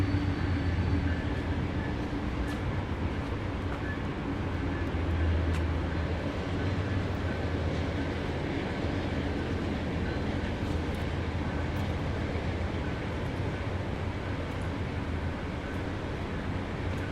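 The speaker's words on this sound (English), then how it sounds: "There's a train passing on either side of me." Trains rolling past on both sides of a walker, a continuous loud rumble and rattle of railcars that stays steady and close throughout, with no speech.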